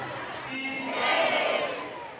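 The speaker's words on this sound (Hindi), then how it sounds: "कितना भीड़ हो गया अभी" A large crowd gathered for a Bhagwat Katha religious discourse, on its final day, fills the air with a dense, continuous murmur of many voices that swells slightly in the middle before easing off.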